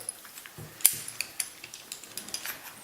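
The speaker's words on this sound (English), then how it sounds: "Just loosen the gib screws a little bit." Gib screws loosened on the cross slide of a lathe, heard as a sharp metallic clink followed by a string of small, quiet ratcheting clicks and taps close by.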